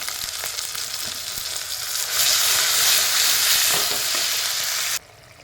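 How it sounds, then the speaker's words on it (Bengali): Onion frying in a pan with garlic and ginger paste, a steady loud sizzle with stirring scrapes that swells louder midway, then cuts off abruptly near the end; no talking. "পেঁয়াজটা একটু ভেজে নেব।"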